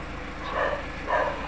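Dogs bark outdoors in a garden, two short barks at moderate distance over steady background noise.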